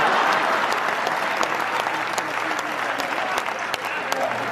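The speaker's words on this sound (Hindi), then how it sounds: "क्या तालियां कम बजा रहे हो यार?" Sustained applause from a live audience at a Hindi kavi sammelan poetry recital, a dense even wash of clapping from many hands throughout, loud and continuous.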